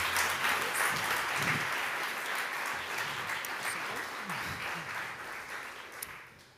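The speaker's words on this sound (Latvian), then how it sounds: "Ar aplausiem vēlreiz Renāru lūdzu." Audience applause at a workplace-safety campaign conference in Latvia, a steady dense patter of many hands clapping that slowly thins toward the end, with a few low sounds of movement underneath.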